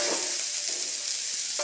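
Shrimp gambas sizzling steadily on a hot sizzling plate, a close, loud, continuous hiss and crackle of frying with no pauses.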